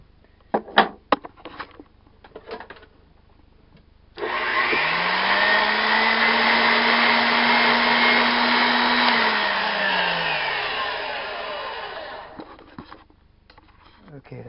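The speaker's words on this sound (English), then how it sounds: "The way to do this would be to rough it out with my bandsaw." A bandsaw roughs out a wooden part for a workbench vise: it spins up, cuts with a steady loud whine for about eight seconds, then winds down, with handling clatter and a voice before and after.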